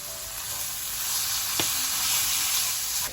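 Steady, loud sizzling of food stir-frying in a pan with soy sauce and gochujang, with a brief scrape of stirring partway through.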